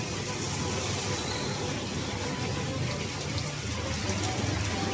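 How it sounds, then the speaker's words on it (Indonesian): Steady rain falling outdoors in a hometown village in Indonesia, a dense, even hiss of drops on surfaces heard close and continuous without voices. "Hujannya udah mulai reda, jadi sebentar lagi saya akan gaskeun ya sahabat ke sana."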